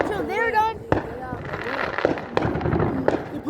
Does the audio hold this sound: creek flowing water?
no